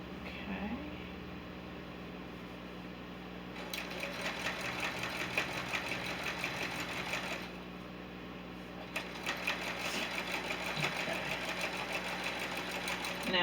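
Sewing machine stitching Christmas memory quilt blocks into rows, a quiet steady mechanical whir in several runs with brief pauses, under soft background noise.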